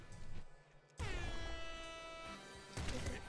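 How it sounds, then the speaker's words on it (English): A loud air horn blast goes off in the video game Nuclear Throne, a harmonic-rich sustained blare of a few seconds that stays steady before tailing off. "like an air horn"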